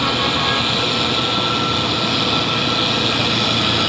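Heavy trucks, including an orange Mitsubishi Fuso 6x4 HD and a Hino, pass on a busy uphill road in the late afternoon, producing a loud continuous engine roar and broadband road rumble without voices.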